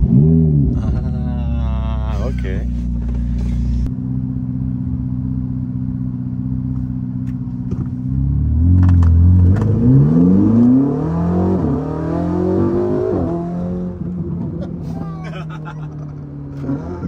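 A Ferrari sports car engine in Miami revs hard and accelerates, a loud, close roar that climbs in pitch and then holds a steady drone, with people talking over it.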